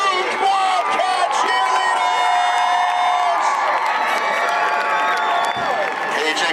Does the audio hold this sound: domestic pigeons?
no